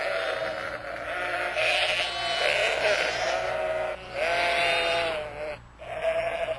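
A ewe calls for her lamb at a farm, giving several loud, wavering bleats close by, each a few seconds long and separated by short pauses, with no talking.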